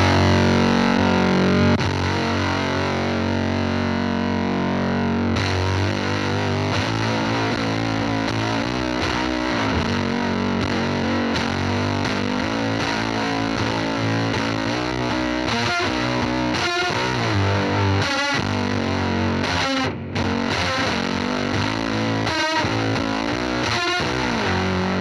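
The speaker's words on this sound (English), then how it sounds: "Okay, so here's fuzz without the chorus." Thick, buzzing electric guitar through a Fender fuzz pedal, without chorus, plays continuously, saturated and loud, with chords and notes blurring into a dense, gritty wall of sound.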